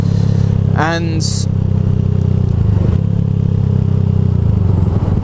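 A motorcycle's exhaust rumbles loud and close throughout, a steady low drone with a brief higher engine burst near the start, while a dog reacts excitedly nearby.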